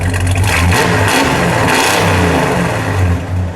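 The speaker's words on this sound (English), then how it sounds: "Give it a rev." A 1964 Dodge Polara 500 with a 426 Street Wedge V8 is revved hard, its deep loud roar swelling and falling across one sustained blip, heard up close with no talking.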